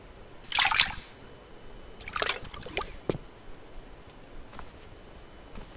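Water being taken from a toilet in The Long Dark video game, a few short splashing and trickling bursts, the first the loudest, then scattered drips over a quiet background.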